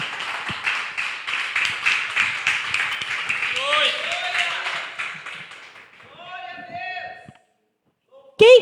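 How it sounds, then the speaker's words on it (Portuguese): A church congregation claps steadily for several seconds, a dense patter of many hands, then the clapping fades and singing or talking voices take over before a sudden loud burst at the end. "Vamos aplaudir ao Senhor."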